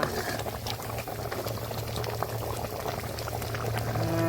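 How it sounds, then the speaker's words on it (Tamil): Village-style dried fish curry (karuvattu kuzhambu) bubbles steadily in a pot on the stove, a close, continuous churn of popping bubbles and liquid gurgle with a low hum beneath, with no talk. "இந்த கருவாடு வந்து இன்னும் ஒரு 2 நிமிஷத்தில் நல்லா வெந்துடும்."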